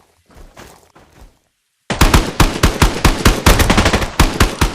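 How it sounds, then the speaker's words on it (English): Automatic gunfire in the game Exfil Zone: a faint muffled burst first, then after a brief silence a loud, sustained rapid stream of close shots with steady rhythm. "that was some crazy firing"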